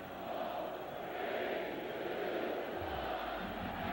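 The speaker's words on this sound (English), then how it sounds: "The crowd counting down the clock is absolutely ruthless" A football stadium crowd roars as one loud, sustained mass of voices, steady and broad, with no individual speech standing out.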